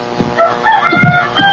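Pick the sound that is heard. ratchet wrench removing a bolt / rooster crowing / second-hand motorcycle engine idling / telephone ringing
rooster crowing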